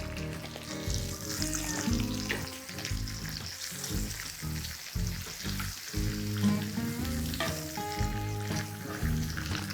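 Butter sizzling in a pan before banana pancakes are cooked: an even, continuous hiss with faint stirring knocks over a steady tonal background.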